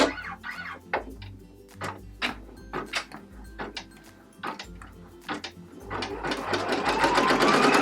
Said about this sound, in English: So now you can see it's stitching a lot faster